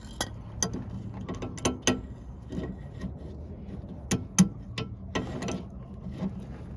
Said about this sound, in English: Double wrench it.